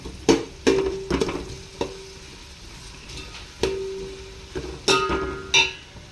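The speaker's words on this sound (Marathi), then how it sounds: "कांदा ब्राऊन होईपर्यंत आपल्याला भाजून घ्यायचा आहे" Onion fries in a pan until brown, a low steady sizzle broken by repeated ringing metallic scrapes and clanks of a spoon stirring against the pan at an uneven pace, with no voices.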